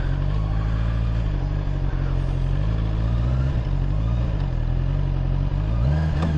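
A Honda CBR650 E-Clutch motorcycle being ridden slowly and braked: a steady, loud, low engine drone with a faint clatter running through it, and no talking.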